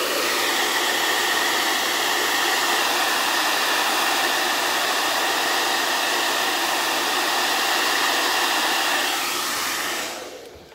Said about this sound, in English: We loosen the kink with the blow dryer on warm.